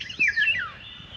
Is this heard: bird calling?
yes